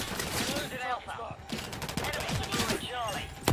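Rapid bursts of automatic gunfire from a Call of Duty match, dense and continuous with overlapping shots and fast rattling volleys, with a voice speaking over the shooting throughout.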